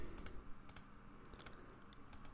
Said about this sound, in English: Control-D on your keyboard to deselect